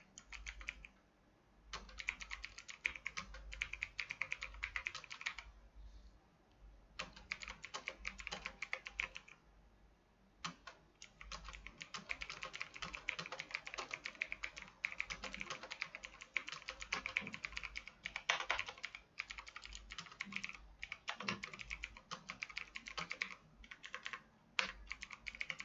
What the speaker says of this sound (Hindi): तो ये हमने नोटपैड के अंदर एक लेटर टाइप कर लिया।